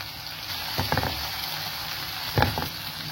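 Onion and chopped ginger fry in a pan for an aloe vera salan, giving a steady close sizzle with two brief bursts of spoon scraping and stirring partway through.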